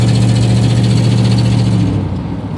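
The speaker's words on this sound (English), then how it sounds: "hear the ticking noise. And I'm sure this is an exhaust leak" A car engine with a leaking exhaust manifold revs up under throttle, a steady loud mechanical drone with rapid ticking pulses running through it, easing slightly toward the end.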